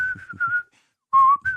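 A man whistling a short tune while decorating his bedroom, a few clear whistled notes with soft breathy puffs, a brief pause, then a long held note and another short phrase, close and alone.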